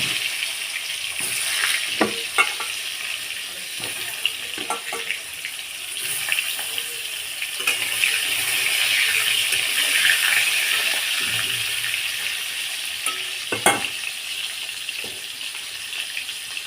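Pointed gourd (potol) frying in hot oil gives a steady, close sizzle that runs the whole time, with a few sharp clicks and clatters as the pan is handled.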